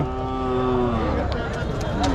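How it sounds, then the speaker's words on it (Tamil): Young bull calves at a rural native-breed cattle market, a low drawn-out moo rising near the start amid a busy outdoor murmur of people talking and livestock in the background. "காளை கன்று தான் இது ரெண்டுமே காளை கன்றுங்க"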